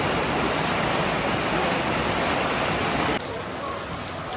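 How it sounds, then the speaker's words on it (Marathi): Steady heavy rain and rushing water at a hillside temple surrounded by greenery: a loud, dense, unbroken wash of noise that drops slightly in level near the end, with no voices. "आवाज ऐकू शकता पावसाचा"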